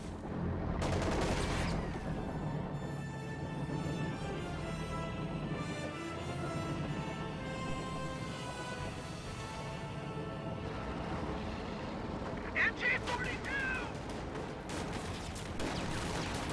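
An MG42 machine gun and other weapons fire in a video game battle, making a dense, continuous rattle of gunfire with distant bursts, steady throughout and without talk.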